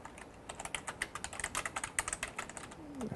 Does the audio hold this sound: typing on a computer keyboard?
yes